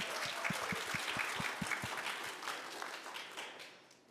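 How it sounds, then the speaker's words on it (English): An audience applauds women founders on stage at a business conference, a steady wash of many hands clapping that gradually thins and fades toward the end. "Please a round of applause for these fabulous women."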